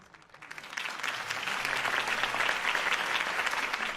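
Crowd at a political rally for Harvey Dent in the Batman Telltale game breaks into applause, swelling from scattered claps to a dense, sustained ovation heard at a slight distance.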